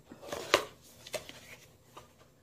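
Packaging being opened for a Super One Up planting pot shaped like a pipe during an unboxing, heard as a few quick, close rustles and plastic clicks with one sharper snap.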